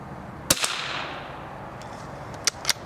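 An old Remington .22 rifle fires two sharp cracks outdoors, each followed by a quick second snap, with a long quiet pause between the two shots.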